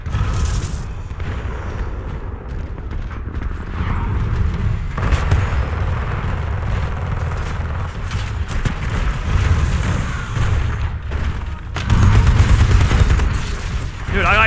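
Heavy gunfire and booming impacts hammer a Titan in the Titanfall 2 shooter game, a loud, continuous barrage with rolling blasts and a sharper surge near the end, with faint talk underneath.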